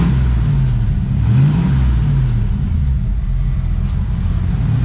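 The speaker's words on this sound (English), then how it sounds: "I'm gonna give it some more gas." A 1986 Ford Mustang GT Fox Body V8 rumbles nearby as the throttle is blipped, the deep engine note climbing and falling in a few revs over a steady idle, with no one talking.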